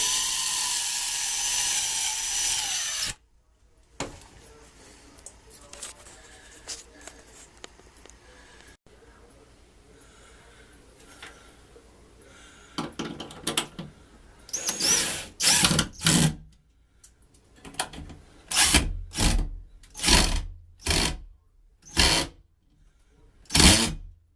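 A power drill drives a screw into a bathroom wall, first quiet, then a run of short, loud, whirring bursts in quick succession near the end.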